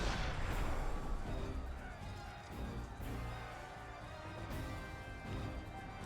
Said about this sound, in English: Please target that big cannon at this gate.